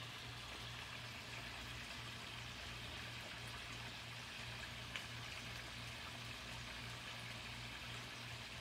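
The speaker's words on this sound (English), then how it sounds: "you also have the nice water feature" Garden water feature outside a house, a soft continuous trickle and splash of running water, steady and fairly faint, with a low hum beneath and no talking.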